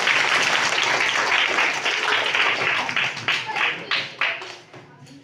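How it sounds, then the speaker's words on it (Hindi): An audience at a Teacher's Day school event claps for a young speaker, a dense burst of applause that thins into scattered, separate claps and fades out by the end. "लिटिल कुमार के लिए जोरदार ताली होगा"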